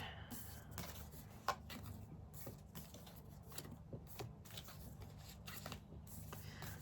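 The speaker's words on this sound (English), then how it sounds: "I'll shuffle the little pack of the cards that I've gathered." A small pack of tarot cards is shuffled by hand close by, giving a steady soft papery rustle broken by light taps and clicks, with one sharper snap near the middle and no talking.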